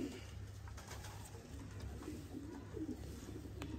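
Breeder pigeons in Sialkot coo softly and repeatedly, low throaty calls rolling over a steady background hum, fairly quiet and close by.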